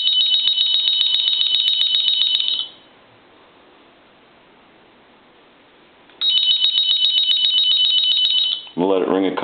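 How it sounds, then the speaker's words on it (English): A toy animated Coca-Cola polar bear telephone rings loudly in two long electronic bursts separated by a pause of quiet background hiss, then a voice begins speaking at the very end. "I'm going to go ahead and ring the unit."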